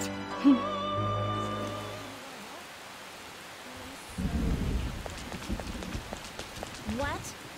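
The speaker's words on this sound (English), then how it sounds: "It's raining really hard." Heavy rain in the video game Persona 5 Royal, a continuous wash of rainfall that follows a brief musical jingle and rises to louder bursts toward the end.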